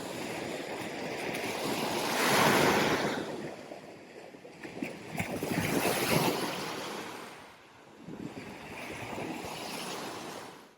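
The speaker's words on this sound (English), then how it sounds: "the waves are really big this morning" Waves rolling onto the Lake Michigan shore on a morning beach, three broad swells of surf rising and falling in turn, with wind buffeting the microphone throughout and no talk.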